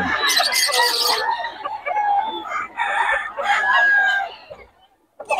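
Roosters crow at a bustling tiangge market in Bocaue, several loud overlapping calls and clucks close by, with people talking underneath.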